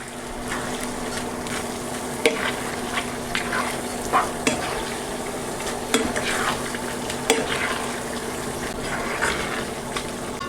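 Cooked pasta being stirred in a large pan with broccoli sauce and a splash of pasta cooking water, giving a steady close wet sizzle broken by regular scraping and clinking strokes of a utensil.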